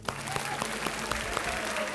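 Studio audience applause welcoming a contestant from Hisar, Haryana, on a quiz show set, a dense, steady burst of many hands clapping throughout.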